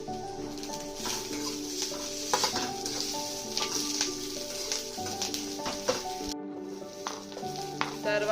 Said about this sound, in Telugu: వన్ టేబుల్ స్పూన్ జీలకర్ర కూడా వేసి వేగించుకోవాలి